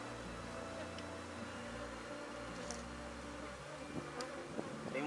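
Apis honey bees buzzing around an open hive during a colony split, a continuous layered drone of many wings close by with a few louder passes.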